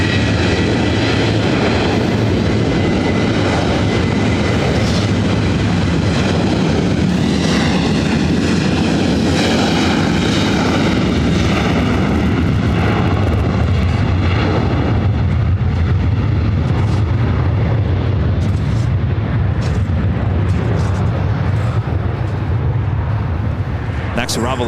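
A Delta airliner taking off from runway 24 right at LAX, its jet engines roaring loud and continuous for the whole stretch, slowly shifting in pitch as it climbs away, with radio chatter faint beneath.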